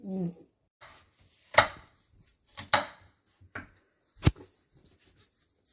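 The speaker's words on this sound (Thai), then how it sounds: "ดูนะครับการหั่นกุ้งของเรานะครับ" A knife chops shrimp on a cutting board in a kitchen, giving a few sharp, close knocks spaced irregularly with quiet gaps between them.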